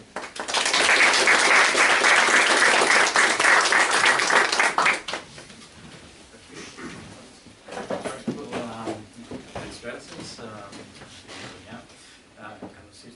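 An audience at a history lecture applauds loudly for about five seconds to welcome the speaker, a dense burst of clapping. It then fades, and a lone voice begins talking.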